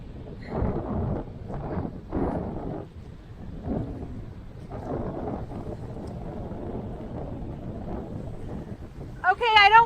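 Strong wind gusts buffet the microphone on the Great Salt Lake shore at the state park marina, a broad rumbling roar that rises and falls, with people talking over it throughout.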